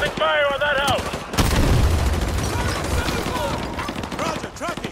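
Suppressing gunfire during a street firefight in Call of Duty Modern Warfare 2 Remastered: bursts of shots and booms under urgent shouted voices, with radio-like chatter over a constant din of combat.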